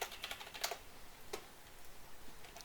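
Quiet typing on a computer keyboard while entering a class name in Unreal Engine 4, with a few scattered light key clicks and a brief cluster of taps, fairly faint over a low room hiss.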